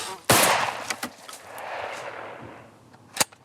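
A single sharp gunshot cracks out during a wood pigeon hunt in the Cévennes, loud and close, followed by a long fading echo and a few fainter sharp clicks and knocks afterward.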